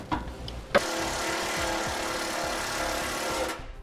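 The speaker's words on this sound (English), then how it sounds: "we're going to mount our compressor in this area on the frame using a fender washer and a self-tapping screw" A power driver runs a self-tapping screw with a fender washer into a truck frame to mount an air compressor: a brief tap, then a steady loud whirring drive lasting about three seconds before stopping.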